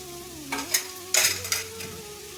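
Carrots and cabbage for veg momo filling are stirred in a hot pan, with a steady sizzle under a few scraping strokes of a spoon close by.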